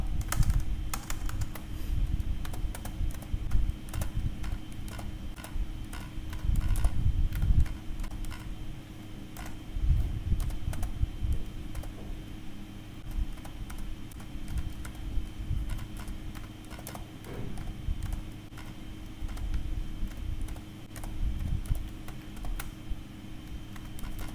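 Keys clatter steadily on a computer keyboard while figures are entered into an Excel spreadsheet, soft and close, in irregular bursts with no voices.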